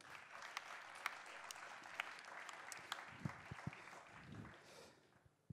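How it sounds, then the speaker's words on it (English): An audience applauds a speaker at a music talk event, a steady, fairly faint wash of clapping with a few sharp individual claps standing out, tapering off at the end. "Please give a big round of applause to Dick Houtman."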